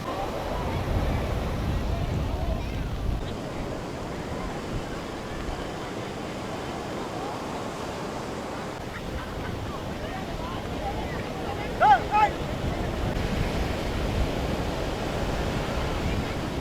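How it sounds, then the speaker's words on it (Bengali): Large ocean waves break on the sea beach at Puri in a continuous wash of surf, with wind buffeting the microphone and a person talking over it. "আর ঢেউগুলো দেখো কত বড় বড় ঢেউ আসছে"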